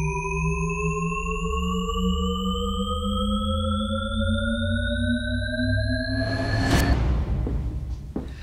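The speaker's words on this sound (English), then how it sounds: "It's constantly rising, rising and rising." A synthesized infinite rising effect, several evenly spaced tones gliding steadily upward together in a seemingly endless climb, loud and continuous, then dissolving into a noisy swoosh toward the end.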